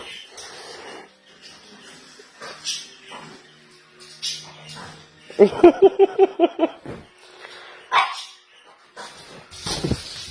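A puppy gives a quick run of high, yappy barks, with whimpers and scattered voices around it.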